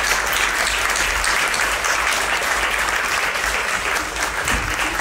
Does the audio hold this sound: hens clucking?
no